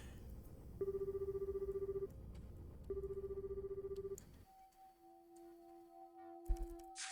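A telephone rings in the video game Yume 2kki, giving two evenly spaced bursts of a trilling electronic ring. A steady, different-pitched tone follows after them.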